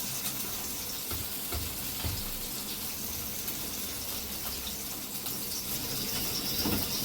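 Fish coated in thick masala fries in a hot pan, giving a steady loud sizzle throughout with a few faint clatters underneath.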